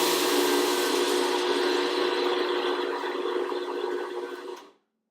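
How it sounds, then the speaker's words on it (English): A kitchen blender grinds two cups of oats into flour with a loud, steady whirring roar that holds evenly for several seconds, then cuts off abruptly. "So I'm just going to put 2 cups of oats in the blender and grind them up."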